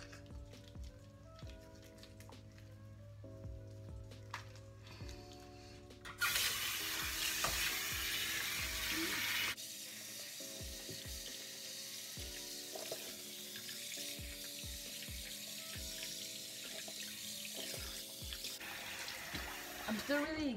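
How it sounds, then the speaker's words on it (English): Tap water runs into a bathroom sink during face washing, a steady broadband rush that swells loudly for a few seconds midway, with soft splashes and background music throughout. "Let me wash my face."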